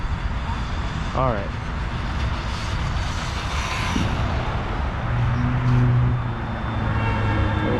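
An Omni Terminator ST radio-controlled car on a 3S battery runs at full throttle outdoors, a steady high motor whine over wind and background noise, with a brief spoken remark near the start.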